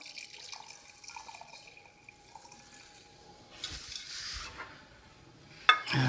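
Sweet and sour sauce trickles and drips softly as it drains, then a fuller pour splashes for a few seconds before a sharp clatter at the end; quiet, close, no talking.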